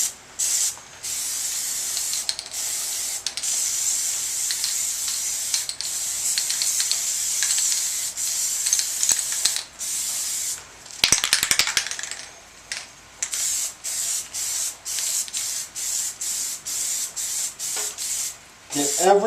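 Plasti Dip coating sprays onto EVA foam armor in repeated hissing bursts from an aerosol can, close and loud, broken by short pauses, with a brief rattling stretch midway and a voice at the very end.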